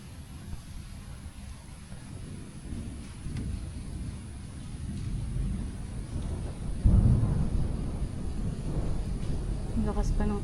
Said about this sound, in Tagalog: Ang lakas pa ng kulog.